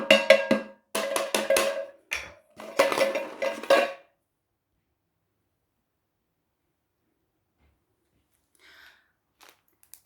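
A wooden spoon tapping household pots and objects, several quick bursts of ringing metallic clinks over four seconds, then near silence with a few faint taps at the end.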